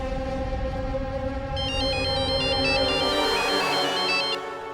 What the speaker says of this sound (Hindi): आपके फोन से मेरे फोन पे फिर से कॉल आ रहा है